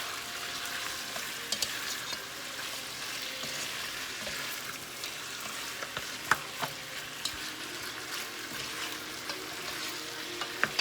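Pork spareribs with black beans sizzle steadily in a hot pan as they brown, a continuous close frying hiss with a few small pops and clinks over about eleven seconds.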